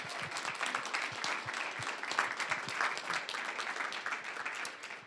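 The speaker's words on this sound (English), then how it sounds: "Please give a round of applause for our Spectrum friends." Sustained applause from a college event audience, dense and steady clapping that fills the whole stretch at an even level.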